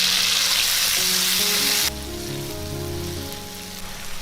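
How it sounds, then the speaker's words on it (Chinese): Minced garlic and tomato stir-fried in a little leftover oil in a wok while making Cantonese black bean sauce spare ribs; a loud, steady sizzle that drops sharply partway through as the tomato goes in, leaving a softer crackle. "锅里留一点底油，加入蒜蓉炒香，接着把番茄放进来炒"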